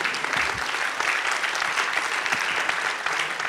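Steady applause from an audience, a continuous patter of many hands clapping at moderate volume.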